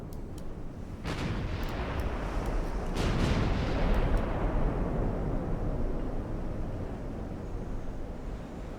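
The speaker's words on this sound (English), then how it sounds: "Get all of the guns firing." Battleship main guns fire in the naval game Ultimate Admiral Dreadnoughts, producing a few sharp blasts near one and three seconds that roll into a long, deep, rumbling boom with no talk over it.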